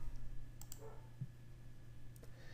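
A single mouse click while saving an invoice import in accounting software, a faint tick against a steady low hum and quiet room noise.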